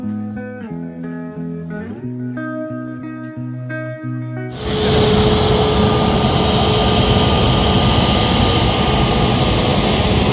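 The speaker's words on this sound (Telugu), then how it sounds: "అక్కడ ఒక పెద్ద ఫ్లైట్ అయితే యూటర్న్ తీసుకుంది కదా, ఆ ఫ్లైట్ ఇప్పుడు ఎట్టిపోతుందో చూడండి." A large passenger airliner's jet engines roar loudly on the tarmac as the plane turns, a sudden steady broadband whine and rush after a stretch of tonal humming, close and sustained with no talking.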